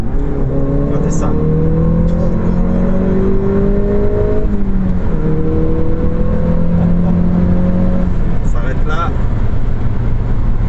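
An Audi S1 Quattro with a 2-litre TFSI turbo engine and manual gearbox pulls hard from inside the cabin, its engine note climbing steadily, dropping at each gear change, then rising again.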